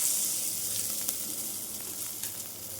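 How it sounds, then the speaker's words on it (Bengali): Whole garam masala and bay leaves frying in hot oil for pulao, a steady close sizzle with faint stirring clinks throughout, no voices. "দিয়ে দিলাম গোটা গরম মশলা, দিয়ে দিলাম তেজপাতা।"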